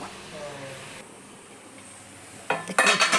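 Water poured into a hot pot of cooked-down cabbage curry, then the lid covering it: quiet kitchen murmur first, then a sudden loud burst of hissing sizzle with clattering at the end.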